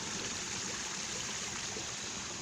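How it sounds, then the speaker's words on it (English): A stream flows steadily beside a covered bench outdoors, a continuous close wash of moving water with no voices. "Some more water."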